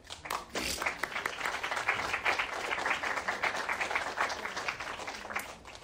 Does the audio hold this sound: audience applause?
yes